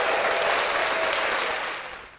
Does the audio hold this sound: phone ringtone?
no